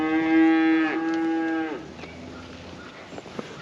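Cattle mooing inside a barn: one long, loud, close low moo that falls and trails off, followed by quieter barn shuffling and faint knocks, with no talk.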